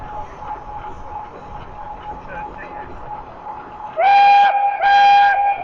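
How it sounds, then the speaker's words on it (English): A loud steam engine whistle sounds in two long blasts with a short gap between them, rising out of faint background chatter and rumble at a steam rally in Stotfold. "That was a whistle for the other engine on the other set, over the far side."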